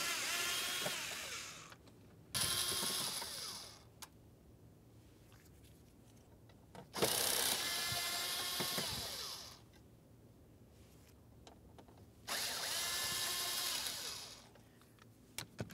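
A power driver backs out Phillips head screws from a 2004-2015 Nissan Titan dash around the radio bezel, in three separate whirring bursts of a few seconds each with quiet gaps between, close up.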